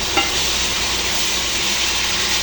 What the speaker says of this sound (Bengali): পুরো ভাজা হয়ে গেছে, খুবই সামান্য ভাজবো, ভাজলে আবার শক্ত হয়ে যাবে।